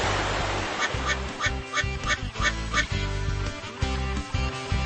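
Rubber ducky quacks in a Paw Patrol water park video game, a quick run of bright squeaky quacks over upbeat game music.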